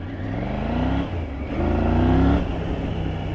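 A Triumph Tiger 900 GT adventure motorcycle pulls hard in road mode, its engine note climbing in pitch through two surges with a brief dip at a gear change, loud and close with no talking.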